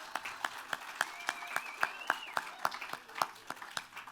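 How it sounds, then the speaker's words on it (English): A small outdoor audience at a visitor center groundbreaking claps for Richard, sparse, distinct hand claps in a loose, fairly regular rhythm, faint and somewhat distant, with a few voices murmuring underneath. "Let's give Richard a round of applause."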